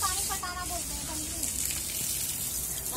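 Water is sprayed and splashed onto a house wall outdoors, a continuous hissing gush with a few whoops and voices calling out over it.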